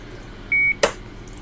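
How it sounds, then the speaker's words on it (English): Radio transmitter beeping as its menu is entered: a short steady electronic beep followed by a sharp click, close and clear against a quiet background. "hold that into the second beep"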